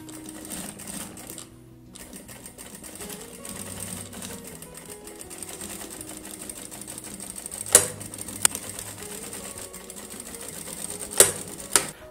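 A sewing machine stitches fabric for a nécessaire box made from scrap cloth. It makes a steady, fast mechanical whir with a few louder clacks near the end.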